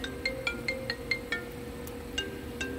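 A mobile phone rings outdoors during a beehive check, its electronic ringtone repeating in quick melodic chimes at moderate volume over a low background hum.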